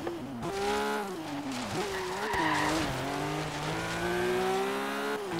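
Race car in a racing video game: a steady revving engine whine that rises and dips through gear changes, with tire squeals and skids, loud and close, no talk.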